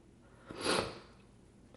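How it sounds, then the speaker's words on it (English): A single short, soft sniff through a runny nose, quiet and close, with no other sound around it. "You're gonna hear me sniffling."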